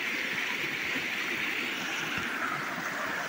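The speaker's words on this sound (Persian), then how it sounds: "اینجا هم یه رودخونه" A river in a northern forest flows as a steady, close rushing wash of water, continuous and fairly loud throughout with no pauses.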